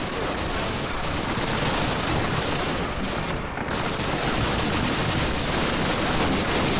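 Gunfire from Call of Duty: United Offensive on veteran difficulty, with enemy FG-42s firing from a building: a dense, continuous barrage of overlapping shots that stays loud and unbroken throughout, with no talking.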